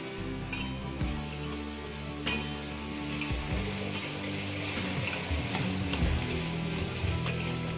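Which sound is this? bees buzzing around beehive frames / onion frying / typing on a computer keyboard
onion frying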